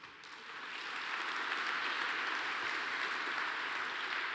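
Audience applause at an award dinner, building over the first second into a steady, dense clapping from a large crowd that holds evenly to the end.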